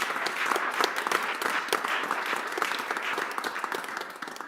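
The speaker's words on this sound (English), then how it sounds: "let's give our mayor another well-deserved round of applause." Audience applause for the mayor at an annual community Kwanzaa festival, a steady dense patter of many hands clapping throughout, moderately loud with no break.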